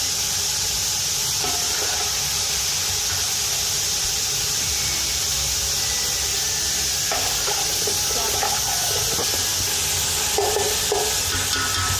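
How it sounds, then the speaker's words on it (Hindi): Radish bhujiya with green chillies sizzles steadily in an open pan while being stirred, a continuous close frying hiss with faint scraping under it and no talking. "और इसकी हम अच्छे से बुनाई कर लेंगे।"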